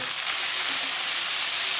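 Ridge gourd and potato frying in a pan give off a continuous, even hiss of sizzling with no talk.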